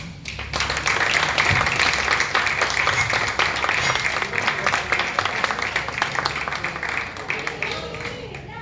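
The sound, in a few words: applause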